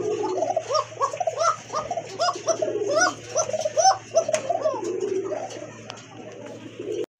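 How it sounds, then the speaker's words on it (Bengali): Female pigeon cooing in soft, repeated gurgling phrases at close range, with more coos from other birds layered over a steady low hum. "এটা মাদির ডাক"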